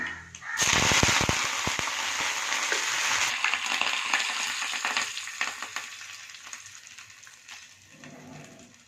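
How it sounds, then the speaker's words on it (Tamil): Mustard seeds, chana and urad lentils and curry leaves hit hot oil with a sudden loud burst of crackling pops, then settle into a fading sizzle with a brief voice near the end. "எண்ணெய் ஊற்றி கடுகு போட்டுக்கிறேன். கடலைப்பருப்பு, உளுத்தம்பருப்பு கொஞ்சம், கருவேப்பிலை கொஞ்சம்"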